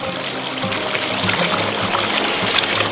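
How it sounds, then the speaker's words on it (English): Cold creek water running and trickling steadily at moderate loudness, a continuous close burble with no voices. "It's all just cold water from the creek."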